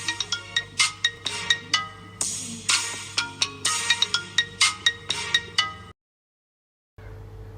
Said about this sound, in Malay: Korang nak ringtone macam ni tak?